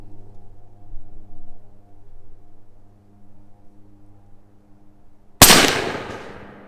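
Umarex Hammer .50 caliber air rifle, tethered to an air supply, letting off a single sharp, loud report that rings and decays after a stretch of low humming background.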